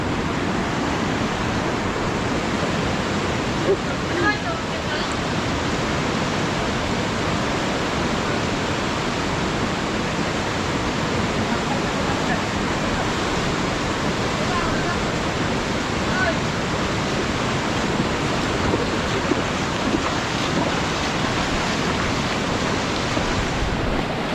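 Strong, swollen river current rushing after a typhoon flood in a rural province, a loud, steady broadband roar of churning water that stays close and continuous, with a voice faintly under it.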